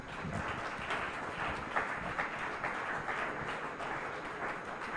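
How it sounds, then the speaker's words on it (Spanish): Applause from a church gathering in Bonaire, a fairly faint, continuous patter of clapping hands heard from some distance, with no clear voices over it. "un aplauso para aquí."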